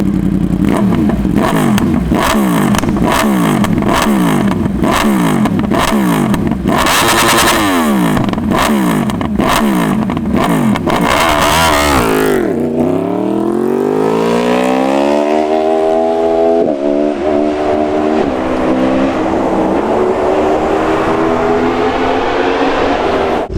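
A 2021 Yamaha R1 motorcycle with a Spark GP titanium full exhaust, loud and close, rapping through repeated revving gear pulls before a sweeping flyby as it accelerates away, then a high fading wail.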